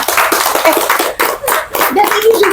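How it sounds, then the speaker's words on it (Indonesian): A group claps their hands in steady, dense applause close by, with voices mixed in. "Tepuk tangan dulu gitu."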